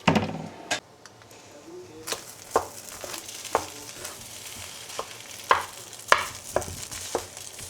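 Rice and egg stir-fried in a hot pan, a steady low sizzle with a string of sharp spatula scrapes and clacks against the metal, spaced irregularly across the clip.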